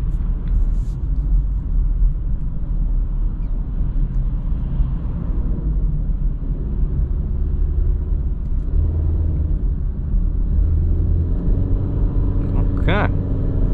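A 2021 Honda CR-V Touring in sport mode cruises on a highway, giving a steady low road and engine rumble that runs continuously from inside the cabin, with a brief faint high tone near the end.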